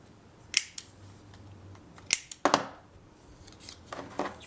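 Corner-rounding cuts on scrapbook paper for a boxed album page, heard as a few sharp, close snips and clicks spaced unevenly over several seconds.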